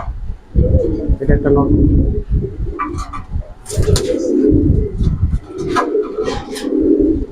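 Giribaz pigeons coo in repeated low, throaty bursts close by, with someone speaking briefly over them.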